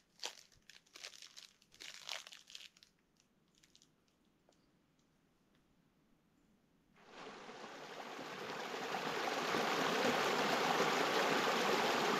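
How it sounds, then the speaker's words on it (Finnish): A wilderness stream flows nearby in a remote forest, a broad steady rush that swells and keeps going after some soft crinkling and rustling handling sounds. "No siinä näkyy se puro, mistä oli puhe."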